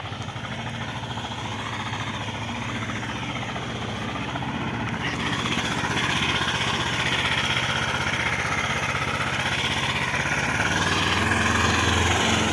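A small homemade mini tractor engine runs steadily nearby in winter snow, a continuous rough chugging drone that grows slightly louder partway through, with no clear speech over it.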